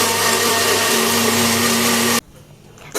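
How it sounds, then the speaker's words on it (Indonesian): A blender grinds spice paste for an Acehnese young yellow pumpkin curry with coconut milk, giving a loud, steady whir up close that cuts off abruptly near the end, leaving only faint background noise. "Selanjutnya kita haluskan bumbunya."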